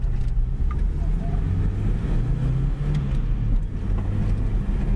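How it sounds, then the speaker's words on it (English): A Toyota Hilux 4x4 engine after a cab swap idles and revs with a steady low rumble throughout, close and continuous, while a voice talks over it. "just give it a rev, mate"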